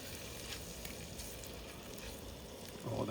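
Food fries in a pan with a continuous, fairly quiet sizzling hiss, steady throughout and alone without talk, swelling slightly at the very end.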